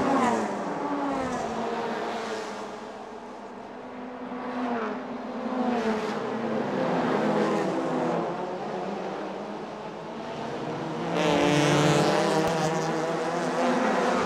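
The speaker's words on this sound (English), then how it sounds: "Here we are in front of the S2 Hotel, driving past pits." Race cars of the Thailand Super Series 2017 roar past the pits at the Bangsaen street circuit in Chonburi, engine noise swelling and fading as several cars pass in succession.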